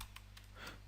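Keystrokes on a computer keyboard while typing a line of C# code, a few quick clicks spread over a short moment, close and fairly faint.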